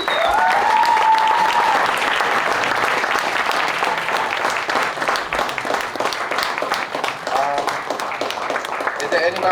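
Applause from a premiere audience greeting a film's crew and directors at a Slamdance screening of a documentary, dense sustained clapping throughout, with a faint voice over it near the start.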